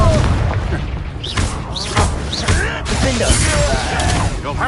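Confringo fire spell blasts in Hogwarts Legacy, a rapid series of loud booming explosions with crackling bursts and whooshes over a dense game combat mix, with a voice shouting over the action.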